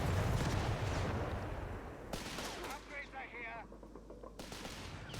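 Machine gun fire in the strategy game Company of Heroes 3, dense rattling bursts layered with explosions and battle noise, followed by quieter fighting with ricochet-like whistles.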